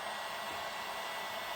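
A hair dryer blows on a piece from a Swingy Grumpy Kitty DIY craft kit, a steady, close, loud whooshing whir with no talking.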